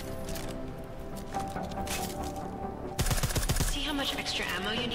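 Silenced combat rifle fire in Deus Ex: Mankind Divided, a quick burst of several muffled, closely spaced shots arriving midway, loud over a steady bed of game music and ambience.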